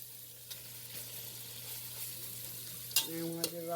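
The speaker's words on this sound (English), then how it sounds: "brown the meat" Turkey meat browning in a pan, with a steady close sizzle and hiss throughout and a couple of brief utensil clinks near the end.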